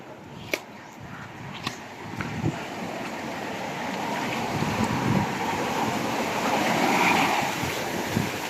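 Steady roaring surf of strong waves builds and swells, with wind rushing across the microphone and a few sharp knocks near the start.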